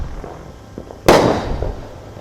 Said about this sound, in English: I doubt if Walmart could sell the illegal fireworks.